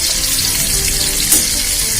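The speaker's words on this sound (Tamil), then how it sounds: "ஒரு எண்ணெய் சட்டியை வச்சு அடுப்பத்தை வச்சுக்கோங்க. அதில் கொஞ்சம் எண்ணெய் ஊற்றிக்கங்க. பூண்டை வச்சு அதில் போடுங்க." Garlic fries in hot oil in a pan at a loud, close, continuous sizzle with a faint crackle, for a macaroni pasta dish.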